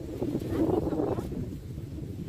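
Low, blustery wind buffets the microphone in uneven rumbling gusts that swell and then ease off.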